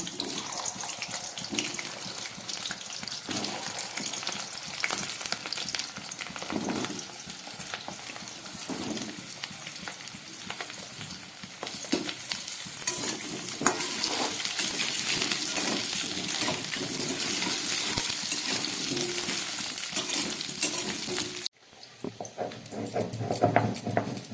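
Taro and potato pieces frying in mustard oil in a home kitchen pan, a steady dense sizzle running continuously with faint clinks, then cutting off abruptly near the end before a quieter stretch.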